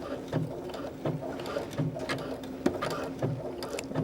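A sewing machine stitching fabric runs in a steady rhythmic mechanical patter, close and moderately loud, with faint clicks over its whirr and no talking.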